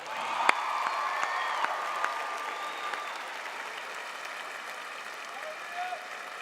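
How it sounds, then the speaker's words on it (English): Graduates and audience at a 2018 Emerson College undergraduate graduation ceremony applaud, broad steady clapping filling a large hall, with a few sharper claps up front and faint crowd voices. "Class of 2018, please give yourselves a round of applause."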